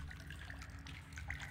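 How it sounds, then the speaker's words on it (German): Water in the survival video game The Forest runs and splashes faintly and continuously, a soft trickling wash with a few brighter drip-like splashes. "hier ist extrem viel Wasser"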